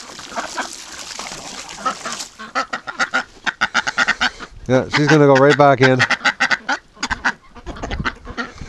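Large Rouen ducks quack loudly and close by, a burst of harsh honking calls in the middle, while someone talks over and around them.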